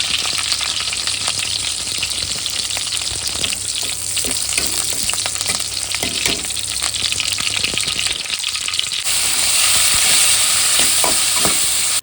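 Chicken fries in hot oil in a pan, giving a dense, loud sizzle broken by frequent scraping and clattering stirs, with the hiss swelling brighter near the end; nobody speaks.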